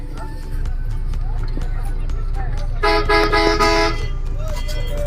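A bus pulling out from a roadside hotel stop in Gajol bound for Malda gives several loud horn blasts over a low engine rumble, with voices chattering in the background.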